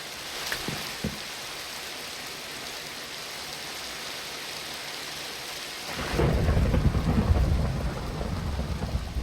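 In a video game, rain patters steadily with low rumbles of thunder, then a louder burst of heavier rain and rolling thunder swells up near the end.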